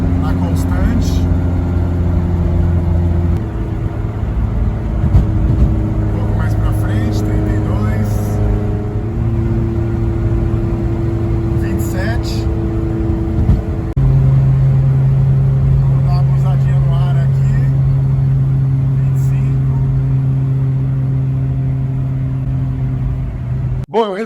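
A car fitted with a PVC intake pipe cruises at a constant 80 to 90 km/h. It gives a steady, droning engine hum with slight step changes in pitch and continuous road and wind noise.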